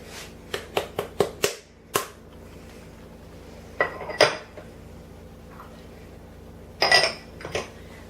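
Apple cake batter stirred in a bowl after yeast and flour go in: a quick run of sharp spoon-on-bowl clinks, then scattered louder knocks and scrapes, close and clear with no talk.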